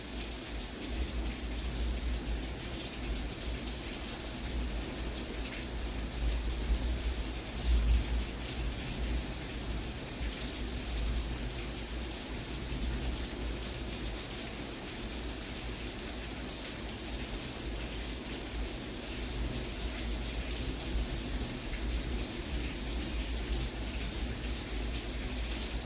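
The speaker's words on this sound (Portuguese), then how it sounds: "Chuva e vento ainda." Steady rain with wind during a spell of heavy weather, a continuous dense hiss and patter that holds even and fairly loud throughout with no talking.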